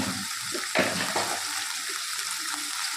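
Stuffed brinjal, gutti vankaya, frying in a pan with curry leaves: a soft, continuous sizzle with a brief louder crackle near the start, heard close and fairly quiet.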